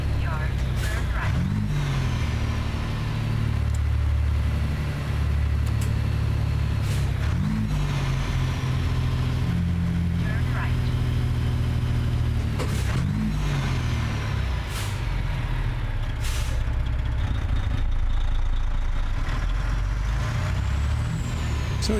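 A heavy truck engine in American Truck Simulator rumbles steadily at idle and revs in repeated low surges, with hissing air-brake bursts and sharp high clicks over a continuous loud drone; someone talks over it at times.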